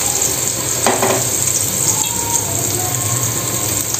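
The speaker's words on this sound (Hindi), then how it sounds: "ये अब इसके अंदर ऑयल डाल रही हूँ तवे पर, ये दोनों जगह एक साथ बन जाएंगे" Chapli kebab fries in oil on a griddle, a close, continuous sizzle with a few brief spatters and light stirring noises.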